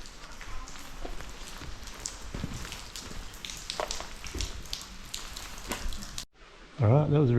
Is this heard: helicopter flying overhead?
no